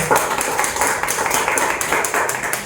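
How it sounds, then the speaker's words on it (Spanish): Clapping from a church congregation at a gathering on Christianity and human rights, with a brisk, uneven patter of hands that stays loud and close and rises in small surges without any talk. "Y le damos un fortísimo aplauso al Señor."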